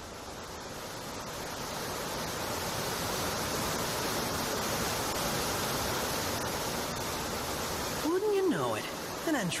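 Steady broadband rush of a waterfall in the Final Fantasy XV Pocket Edition video game, constant and full throughout, with a brief sweeping tonal game effect near the end.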